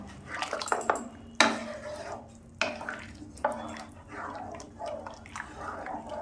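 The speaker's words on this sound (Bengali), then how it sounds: "দিয়ে নেড়ে দিলাম যাতে না দুধ ডেলা হয়" Milk being stirred in a pan with a utensil while making kheer filling, giving soft scraping and sloshing strokes with a few sharper clinks against the metal, fairly close and moderate in level.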